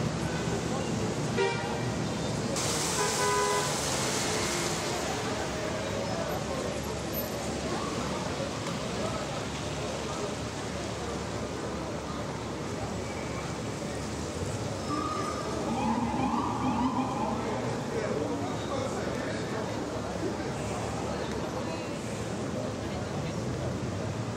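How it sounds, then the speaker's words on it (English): An NYPD motorcade escort moves through the city with car horns tooting and sirens rising over dense, steady street traffic noise, voices mixed in throughout. "This is what it looks like when NYPD escorts any important dignitary here in the city."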